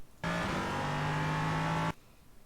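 An LMP3 race car engine in iRacing at Sebring, a loud sustained buzzing drone with a steady pitch that starts abruptly and cuts off after under two seconds.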